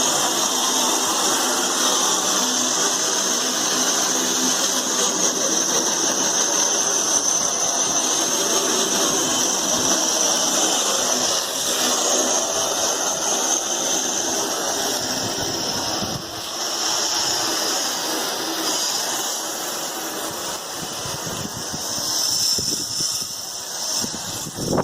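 A pressure washer blasts down a surface on a UK allotment, giving a steady, loud, continuous hissing roar that holds for the whole stretch with only slight dips in level.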